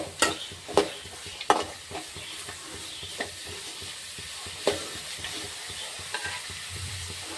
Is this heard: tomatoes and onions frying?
yes